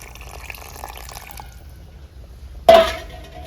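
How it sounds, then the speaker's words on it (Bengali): Hot water is poured into a pot of mutton curry, a sudden loud splashing gush near the end after a quiet low simmer, close by and trailing off. "গরম জল দেবো গরম জল করে রেখেছিলাম"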